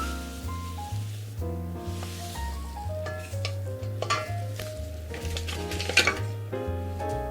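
Sugar is stirred into a cheesecake mixture in a bowl, the soft scraping and swishing of the spoon running steadily under loud background music with a bass line.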